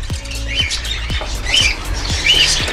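Cockatiels and budgies in an aviary give several loud harsh squawks in quick succession, close by, with soft chirping between the calls.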